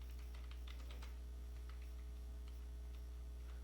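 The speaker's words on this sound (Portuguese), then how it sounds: "a gente está digitando" Someone types on a computer keyboard while drafting text on a screen. Soft, irregular key clicks come in scattered bursts over a steady low electrical hum, with no voices.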